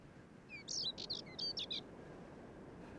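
Male spectacled warbler singing from a perch in the Canary Islands: a short burst of high, scratchy chirps and trills, clear but not close, over a faint steady background hiss, then fading to quiet.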